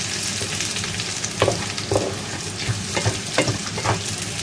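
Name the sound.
dried chillies frying in oil for black pepper chicken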